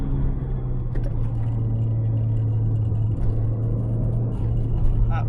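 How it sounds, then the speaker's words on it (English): A Lancia Delta HF Integrale 8V pulls hard in second gear with its turbo spooling up, a steady loud engine drone with a droning low tone throughout, heard from inside the car. "give her a little floor in second. Turbo kicking in now."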